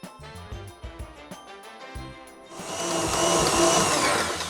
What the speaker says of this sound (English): just let that whisk on that medium-high speed for 7 to 10 minutes until the bowl is cool to the touch